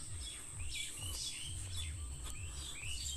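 Several birds chirp and tweet in quick, overlapping bursts close by, over a low rumbling background.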